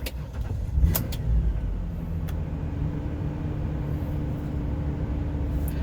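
A car engine starts after oil pressure is built up, with a quick cranking burst followed by a steady, even idle hum that stays constant close by.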